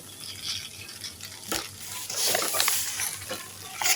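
Sliced okra fries with salt in a pan as it is stirred, giving a soft continuous sizzle broken by occasional scraping stir strokes, close and moderately quiet.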